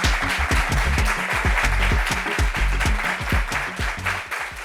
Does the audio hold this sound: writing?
no